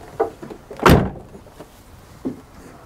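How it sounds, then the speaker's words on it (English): The door of a Range Rover L322 Westminster shuts with a solid, deep thud, framed by softer clicks of the latch and handle just before and after, recorded close up outdoors. "The unmistakable sound of an L322"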